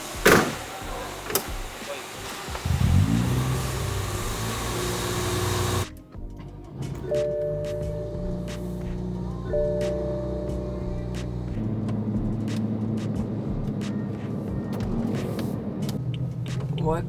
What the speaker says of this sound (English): We have a drivetrain fault and the car is not idling well.